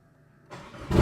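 A Nissan S13 engine catches on the first crank, a brief starter whir after a quiet moment, then a sudden burst into a louder running rev, close and short, with no talking.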